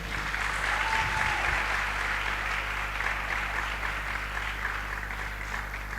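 An audience applauds, a continuous even wash of many hands clapping at a moderate level, heard steadily for about six seconds over a low background hum, with no speech.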